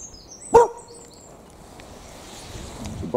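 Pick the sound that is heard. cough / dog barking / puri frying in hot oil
dog barking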